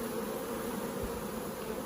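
Honeybees buzz around an open beehive during a honey harvest, a steady close drone that holds throughout without a break.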